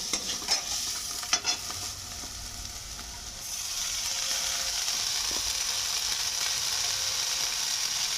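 Boiled chow mein noodles added to nearly fried vegetables for paneer noodles, a few clinks and scrapes of a spatula at first, then a steady, fairly loud oily sizzle of stir-frying that fills the rest.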